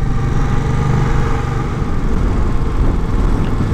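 A Yamaha MT-07 Tracer, a 700 cc, 75 hp motorcycle, runs close to the microphone with a loud, steady low engine rumble throughout and no voices.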